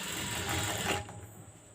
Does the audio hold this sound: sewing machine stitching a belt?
yes